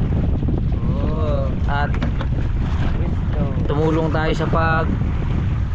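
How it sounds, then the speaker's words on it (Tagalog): Wind buffets the microphone in a constant roaring rush, with people talking over it now and then. "At napakalakas na yun ang hangin. Malakas ang hangin."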